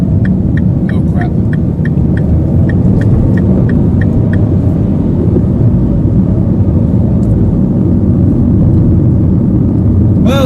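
Car engine idling and rumbling in heavy traffic, a loud constant low roar from inside the vehicle with faint ticking, while the driver talks over it.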